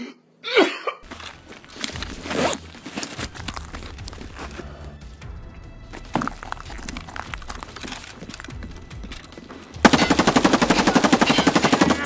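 Gunfire in the video game Escape from Tarkov: scattered shots and clatter, then a loud sustained burst of automatic fire near the end.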